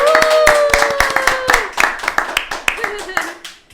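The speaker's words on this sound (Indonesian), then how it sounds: "Kasih tepuk tangannya dong" Clapping to welcome guests on an Indonesian talk show, sharp distinct claps from a few people that start quickly and thin out into scattered slaps, while a cheerful voice calls out over them.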